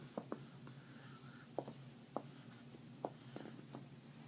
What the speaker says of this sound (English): This time I will write a short number.